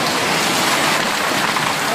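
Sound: heavy hail falling in Stavropol

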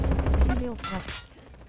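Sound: gunfire in a video game

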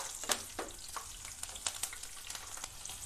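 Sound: cumin, bay leaves and cardamom sizzling in hot oil

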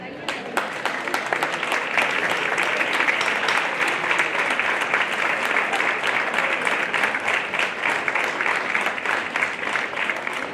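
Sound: applause for the band members

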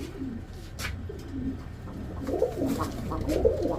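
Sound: Black Gold Archangel pigeon chick cooing

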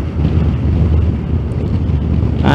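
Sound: wind blowing during Yamaha FJ motorcycle ride

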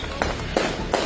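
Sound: fireworks set off at a celebration

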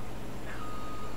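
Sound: truck reversing beeps in video game Farming Simulator 17

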